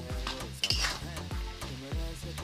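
Fried rice stirred in a pan gives a close sizzle with rhythmic scraping strokes of a spatula against the metal, about three or four pushes with a light clink, no talking.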